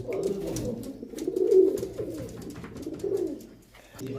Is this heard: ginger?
no